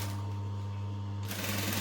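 A sewing machine runs a short, rapid burst of stitching along a 1/8 seam allowance, a steady close whirring hum that brightens and grows busier near the end.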